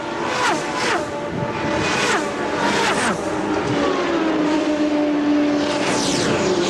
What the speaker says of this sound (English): We'll let the rest of the field come through, give you an idea of the position of these cars.